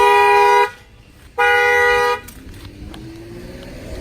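An Acura TLX shock-sensor alarm, set off by banging on a tire, blares two loud, steady horn blasts of under a second each, separated by a short gap. Only faint low background rumble follows.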